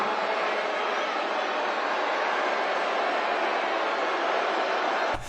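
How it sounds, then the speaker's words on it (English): A large crowd at a Trump rally in Las Vegas boos in a dense, continuous roar that stays loud and unbroken and cuts off abruptly at the end. "Listen to that booing."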